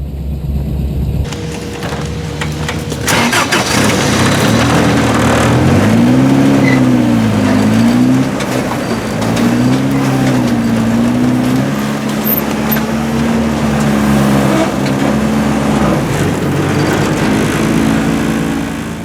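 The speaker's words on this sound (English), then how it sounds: "the driver of the buggy said that he would start it and steer when he needed to" An off-road buggy engine starting and revving while being towed on a trail, a loud droning motor that rises and falls in several revving swells over steady rumbling background noise.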